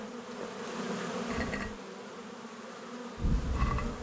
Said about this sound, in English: Good bees. Don't sting me.